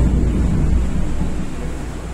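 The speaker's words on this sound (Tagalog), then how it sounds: "Sobrang lakas ng ulan ngayon." Dense, low rumbling roar of heavy rain and deep thunder fills the space, broad and steady, slowly easing slightly toward the end.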